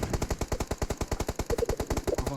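Rapid automatic gunfire from the PUBG video game rattles along in a steady, evenly spaced stream of about twenty close, punchy shots without pause.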